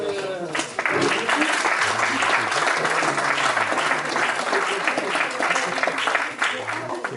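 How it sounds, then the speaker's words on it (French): An audience at a school orchestra inauguration in Chennegy breaks into sustained, dense applause for the young drummer, loud and close, with voices talking beneath the clapping. "Et Melvin, pardon, la batterie, on peut l'applaudir parce que c'est le"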